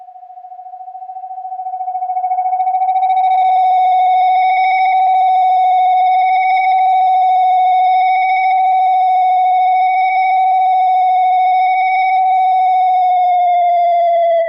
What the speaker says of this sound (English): And we start to get the self-oscillation.